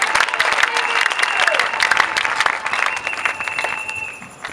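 A church congregation at an evangelism campaign meeting breaks into sustained, loud applause, dense clapping that carries on steadily before thinning out toward the end.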